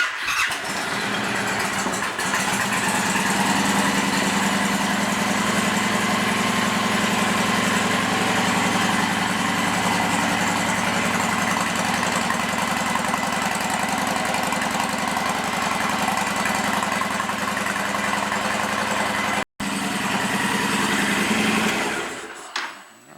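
A motorcycle engine cranks and fires up after new spark plugs are fitted, then settles into a steady, fairly loud idle with a high whine for about twenty seconds, briefly cutting out near the end before running again and fading.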